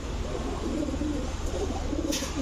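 Silver Babra pigeons coo in low, throaty, rolling calls that repeat close by over a constant background hum.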